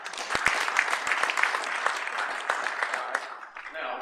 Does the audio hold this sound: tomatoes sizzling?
no